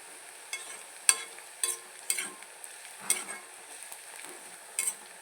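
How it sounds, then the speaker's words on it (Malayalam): Pickle spice powder sizzles softly in oil for a fish pickle, quiet frying under a series of sharp spoon taps and scrapes on the pan, close by with no talking. "അച്ചാർ പൊടി ഇടാകുമ്പോൾ നമുക്ക് ഇത് എണ്ണയിലേക്ക് മൂപ്പിക്കാൻ മാത്രം മതി"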